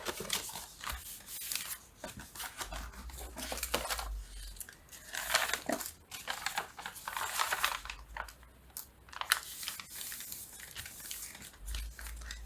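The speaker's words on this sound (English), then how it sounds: "I can just go and tear around all my papers" Hand-dyed paper cards being torn by hand, a series of rough ripping strokes in short bursts with pauses between, close and fairly quiet.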